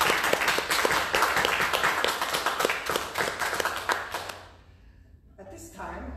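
Church congregation applauding during a service, a dense wash of many hands clapping that carries for about four seconds before fading, followed by a short quiet gap and a faint low rumble.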